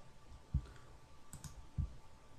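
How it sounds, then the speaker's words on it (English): A computer mouse gives three soft clicks at an unhurried pace, close by on a quiet desk. "So if I click on this"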